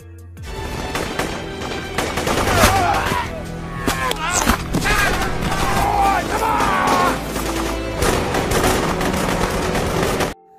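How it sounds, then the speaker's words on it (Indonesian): Rebel gunfire during an escape through tall grassland toward the Cameroon border in a film, loud rapid bursts of shots and cracks mixed with a voice and other action noise throughout. "Namun tembakan dari tim pemberontak semakin membabi buta."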